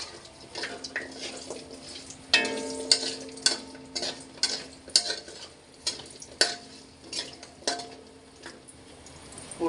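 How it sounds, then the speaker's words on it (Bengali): Sun-dried pumpkin lentil dumplings (bori) fry in hot oil for a mixed fish bhuna, with a steady background sizzle and repeated stirring clatters at irregular intervals, close and moderately loud, with no voices. "এখন তেলে কুমড়ো বড়িগুলি দিয়ে দিলাম। সুন্দর করে একটু বড়িগুলির ভালো করে ভাজে নেব।"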